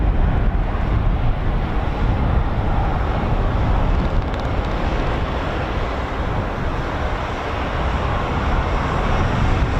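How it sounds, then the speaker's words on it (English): Strong outdoor wind buffets the microphone with a loud, continuous low roar that fills the whole clip without letting up; no one speaks. "Oh no. It is quite windy."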